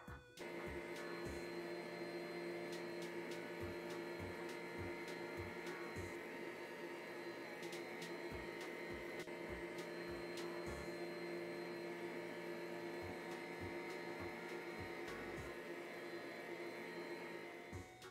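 Electric hand mixer whipping chilled cream into chantilly for a cream-and-chocolate biscuit pie, a steady loud motor whir holding for the whole stretch with faint clicks of the beaters against the bowl, no talk.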